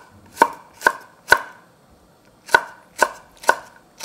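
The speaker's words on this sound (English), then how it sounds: "I'll just slice this." A knife slices through a green serrano chili pepper on a cutting board in seven crisp, close strikes: three evenly spaced cuts, a short pause, then four more in steady rhythm, with no talking.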